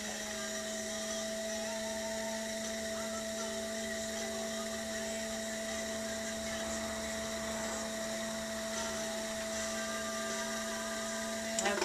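A stoneware wine cup being trimmed on a spinning potter's wheel gives a steady, close motor hum with a constant whirring drone and faint scraping over nearly twelve seconds, with no talking.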